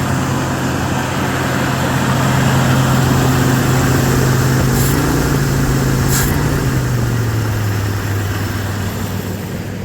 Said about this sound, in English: I'm curious if it'll idle once I kick the choke down.